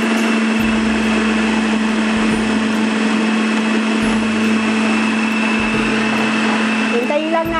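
A mixer blends crushed digestive biscuits with melted butter, whirring steadily and loudly at a constant high pitch, its motor tone shifting slightly near the end.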